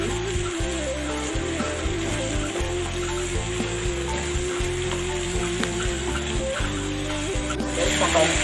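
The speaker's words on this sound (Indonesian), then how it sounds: "Kita aduk lagi." A simmering spice mixture with lemongrass, galangal and lime leaves being stirred in a nonstick pan, with steady close sizzling and repeated soft scraping strokes throughout.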